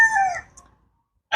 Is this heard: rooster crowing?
yes